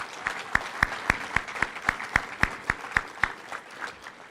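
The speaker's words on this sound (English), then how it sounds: "So we want to give her a great round of applause" An audience in Fredericksburg gives a woman a round of applause, with steady, evenly spaced claps close to the microphone standing out over a softer patter of hands for about four seconds.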